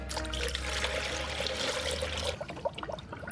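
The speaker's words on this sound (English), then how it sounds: "this is gonna take forever to drain" Green coolant draining from a car, a steady trickling liquid stream running close and fairly loud for over two seconds before stopping, followed by faint drips and small handling noises.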